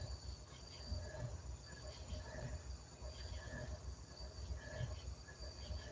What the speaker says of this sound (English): Why is that train making that noise?